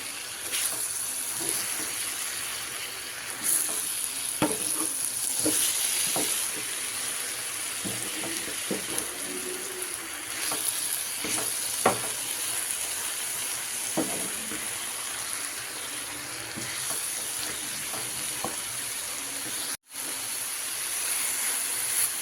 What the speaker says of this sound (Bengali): এবার আলু আর বেগুন আর শাক ভালো করে আমি মিশিয়ে দেবো আস্তে আস্তে করে